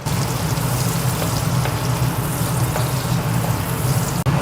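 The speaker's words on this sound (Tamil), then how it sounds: "பாருங்கள் வெங்காயம் நல்லா வதக்கிட்டோம்." Onions and cumin sautéing in a pan, a dense, continuous loud sizzle and crackle of frying close by, with faint stirring scrapes and no speech.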